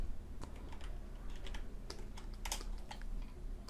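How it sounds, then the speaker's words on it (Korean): Computer keyboard keys are pressed in scattered, irregular taps that sound close but fairly soft over a low background hum, with no voices. "키보드 I 키를 눌러볼게요"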